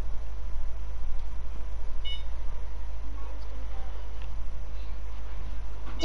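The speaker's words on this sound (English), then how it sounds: "Dad, my buzzer's gone off bad." An electronic fishing bite alarm with badly set sensitivity gives a short, sharp beep partway through, set against a steady outdoor hum and low rumble.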